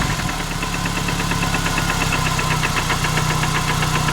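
Car engine idling with a steady knock after Lucas Oil Stabilizer was added, a close, even, continuous mechanical rumble with rapid rhythmic ticking throughout and no voices.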